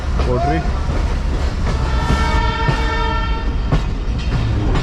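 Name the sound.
Mohenjo-Daro passenger train running on rails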